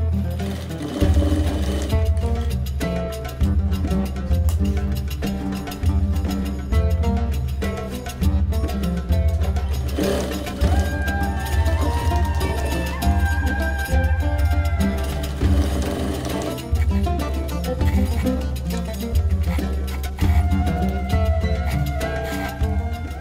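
Sewing machine stitching fabric wet and dry wipe pouches, running steadily and loudly for the whole stretch with a continuous whirring hum and brief pauses between seams.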